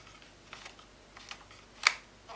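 Combination lock dial on a wooden 3D puzzle being turned: a series of soft, irregular clicks and light ticks close by, with one sharper click toward the end, in a quiet room.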